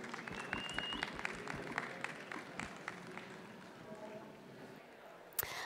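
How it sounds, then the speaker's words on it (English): Audience at a Web3 venture capital talk applauding a speaker, moderate clapping with distinct individual claps that fades over several seconds, ending with a sharp thump. "let's give her a great round of applause"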